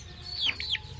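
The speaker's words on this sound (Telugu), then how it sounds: "టర్కీ కోళ్ళు అంటే ఇవి టర్కీ దేశం కోళ్ళు" Turkey and guinea fowl calling: a brief, high, close squawking call of two or three quick notes over low background noise.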